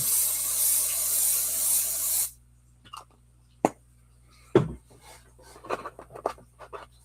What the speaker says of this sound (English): I'm going to spray my stencil.